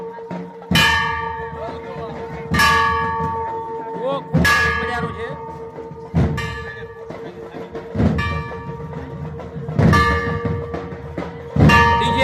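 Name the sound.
bells struck during a village wedding procession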